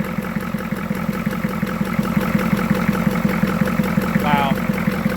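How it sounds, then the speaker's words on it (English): A 1985 Ford F250 with a 6.9 IDI diesel engine idling in neutral, a steady rhythmic clattering knock pulsing evenly and close by, with a brief voice near the end. "Neutral idle."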